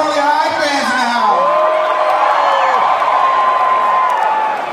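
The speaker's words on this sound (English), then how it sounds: "Good, you better cheer for that." A live drag show audience at the Troxy theatre in London whoops, cheers and shouts loudly and continuously, with overlapping high-pitched yells and some clapping filling the room.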